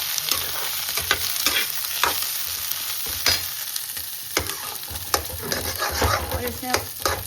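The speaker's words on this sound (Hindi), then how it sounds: "ये हल्का सा फ्राई हो जाएगा, इसके बाद मैं इसमें डाल दूँगी प्याज।" Ingredients for chilli soya sizzle gently in ghee in a pan, a soft continuous frying hiss broken by periodic stirring scrapes and light clicks, close and alone.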